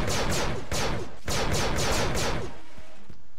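Captain Rex opens fire in Star Wars Battlefront 2. Loud, close, rapid blaster shots come in a steady rhythmic volley for about two and a half seconds, then fade to quieter background noise.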